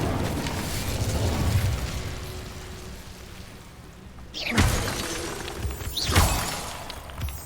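Casting the Incendio fire spell in the Hogwarts Legacy video game: two sharp, whooshing fiery bursts that land a couple of seconds apart over a low rumbling game background.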